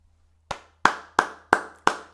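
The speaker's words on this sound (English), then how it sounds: "that's why I have to give you a round of applause" Five sharp, evenly spaced hand claps ring out loud and close against a quiet background, each one cracking crisply and decaying quickly.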